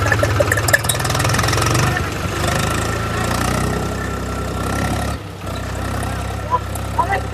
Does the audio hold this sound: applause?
no